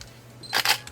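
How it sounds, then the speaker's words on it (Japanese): A Nikon D90 DSLR under repair after an error fault fires its shutter: a single quick mechanical snap of mirror and shutter, fairly close and crisp, over a quiet background hum. "シャッターが切れましたね。"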